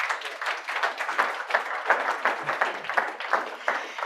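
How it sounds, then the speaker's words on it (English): Audience applause at a tech competition grand finale on stage, a moderate, even patter of many hands clapping continuously, somewhat distant and without voices. "So please give a big hand of applause to Econo from Sweden."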